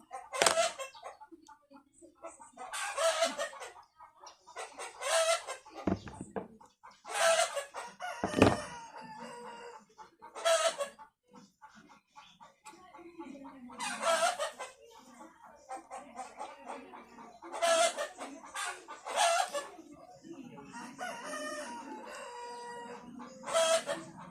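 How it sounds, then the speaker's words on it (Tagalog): Chickens cluck and a rooster crows repeatedly, with calls and clucks spaced in bursts across the scene at moderate volume, some louder near calls standing out, with no talking. "ang ingay ng manok"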